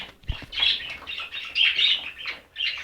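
Pigeons flapping their wings as a male chases a white female, bursts of fluttering wingbeats at close range in uneven pulses, with no talking.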